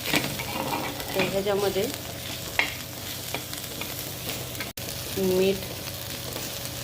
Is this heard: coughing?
no